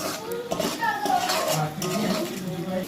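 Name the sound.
stir-frying spice masala in a pot for egg biryani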